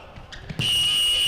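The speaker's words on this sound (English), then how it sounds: "that is the very loud Plymouth Life Centre buzzer to signal the end of this first half" A very loud sports hall buzzer at the Plymouth Life Centre sounds the end of the first half of an FA futsal match, bursting in suddenly as a sustained, steady electronic tone over faint hall ambience.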